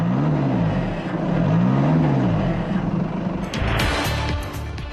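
Audi car with a 1.8-litre, 132 kW petrol engine accelerating, its engine note rising and falling through gear changes, loud and close, with a higher whoosh toward the end.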